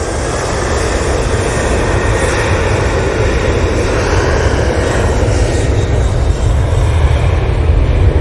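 A passenger airplane descends to land at Manchester Airport, its engines producing a steady, broad roar that swells slightly louder over the seconds, with no voices.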